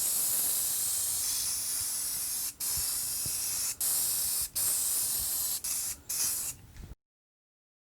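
Spray paint hisses steadily onto a wooden American flag, a loud close spray broken by several short pauses as the nozzle is released, then stopping abruptly.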